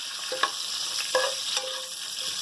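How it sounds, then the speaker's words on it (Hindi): Cumin seeds and curry leaves frying in hot oil for a green chilli dish, a dense close sizzle with a few sharper crackling spurts, loud and steady with no voices. "बस ये ज़रा सा जीरा भी हमारा भून जाएगा।"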